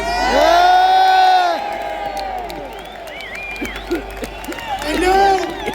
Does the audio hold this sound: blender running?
no